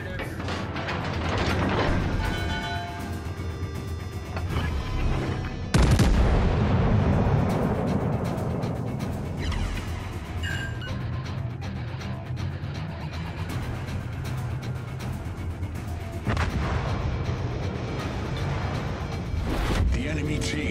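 Naval artillery fire-support barrage in World of Warships: Legends, heavy booming blasts with a sharp loud impact around the middle, over a constant rumbling battle din, with voice lines heard in the mix.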